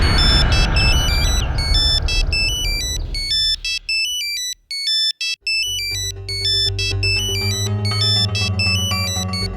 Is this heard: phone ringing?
yes